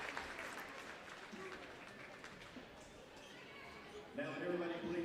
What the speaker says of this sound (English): Picking up plenty of crowd noise.